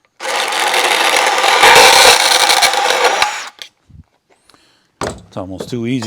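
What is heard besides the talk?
electric hacksaw cutting wood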